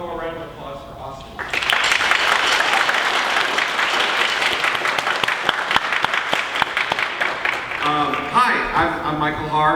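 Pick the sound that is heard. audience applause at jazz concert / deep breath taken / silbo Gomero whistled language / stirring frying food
audience applause at jazz concert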